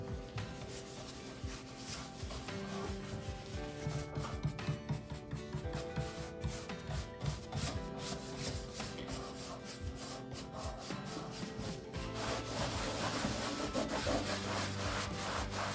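White wax is rubbed by hand onto a thrifted wooden side table during an upcycle, giving a continuous close scrubbing and scuffing with irregular strokes and light knocks, fairly quiet, with no talk over it.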